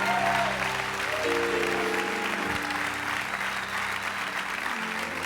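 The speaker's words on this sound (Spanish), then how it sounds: "Dele un fuerte aplauso al Espíritu Santo de Dios" A church congregation claps loudly and steadily in a sustained wave of applause, with a few voices calling out beneath it.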